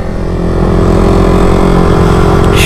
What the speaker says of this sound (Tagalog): Ang ingay ng makina.